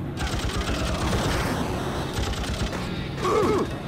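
Rapid machine-gun bursts from a video game, dense and continuous at close range, with mechanical clatter and a brief voice near the end.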